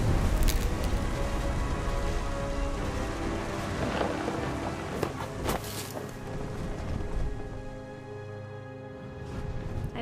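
A thunderstorm with steady, heavy rain in the video game What Remains of Edith Finch: a dense, continuous wash of rainfall with low rumbles rolling underneath, holding a fairly even level throughout.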